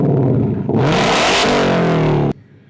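A 2024 Ford Mustang GT V8 fitted with an H-pipe exhaust revs hard and close, climbing into a loud, raspy roar before cutting off abruptly to a low idle.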